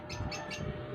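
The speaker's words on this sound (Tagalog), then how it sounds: "Ba't ang ingay ng ibon?" Noisy birds chirp nearby at home, giving three quick bursts of high, bright tweets over a low background rumble.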